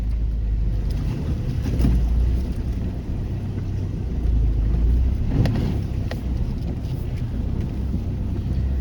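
A 4WD fords a pebbly creek crossing on a remote Cape York track, with a steady loud rumble of engine and rushing, churning water plus wind buffeting the microphone throughout, no voices.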